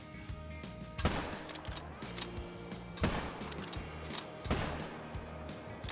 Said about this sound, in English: Let's see if we can get some shots into them.